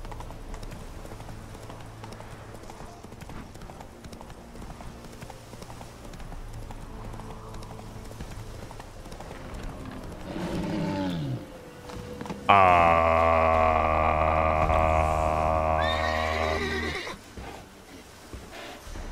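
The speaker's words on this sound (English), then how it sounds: "This horse will be the end of me." Roach, Geralt's horse in The Witcher 3, trots with a steady clip-clop of hooves under game ambience, then lets out a loud, close neigh near the end.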